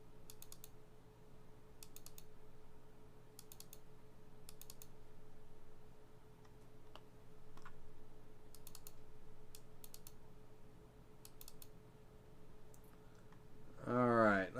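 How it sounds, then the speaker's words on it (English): Computer mouse double-clicks in a design program, short paired clicks repeating at intervals over a steady low room hum, fairly close and faint, with a brief burst of speech at the end. "I'm just double clicking on the waste area, the areas that are going to fall out."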